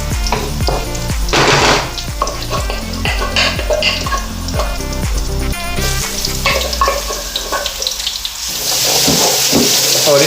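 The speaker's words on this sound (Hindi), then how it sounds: "अभी अदरक और लहसुन का पेस्ट डालते हैं।" Ginger and garlic paste hits browned onions in a hot pan for a urad mash daal, a loud steady sizzle with scraping and stirring, which grows brighter and hissier toward the end.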